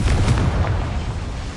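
A Confringo blasting spell explodes in Hogwarts Legacy inside a cramped mine, giving a loud, deep booming burst that rumbles on and slowly fades over a second and a half.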